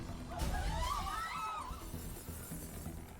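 Glass shatters in the video game Persona 5 Royal, a loud bright crash that breaks out and rings with falling shards for about a second, then gives way to game music and ambience.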